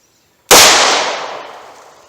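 A single close, loud gunshot from a Hornady Critical Defense .38 Special 110 grain +P load fired through a 1.875-inch barrel: a sharp crack after a moment of silence, then a long ringing decay.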